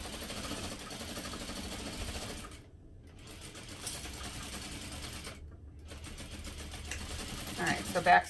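A sewing machine stitches fabric and lining for a holiday stocking in rapid steady runs, close by, pausing briefly twice between seams, with a voice talking over it.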